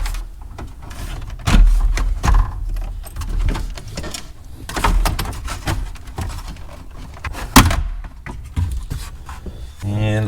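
A plastic dash trim piece on a Dodge Dakota pops free of its speed clips in several loud, close snaps and cracks, with creaking and rustling of plastic in between.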